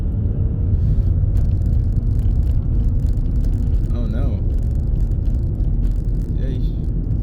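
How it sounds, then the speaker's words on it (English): A truck swings through a wide U-turn in busy traffic, its heavy engine rumble and road noise steady and loud throughout, with a hiss like an air brake near the end and someone talking over it. "This truck driver made the biggest U-turn ever."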